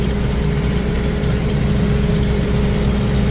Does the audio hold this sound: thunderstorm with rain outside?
no